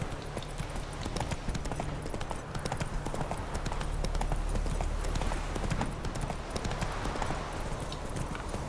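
Rapid, rhythmic hoofbeats of a galloping horse in The Witcher 3, continuous and fairly loud over a low background rumble.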